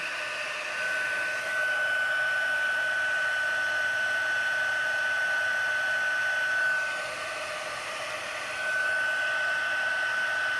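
A heat gun blows continuously while melting embossing powder on a card, a loud steady airy roar with a faint high whine, alone without talk.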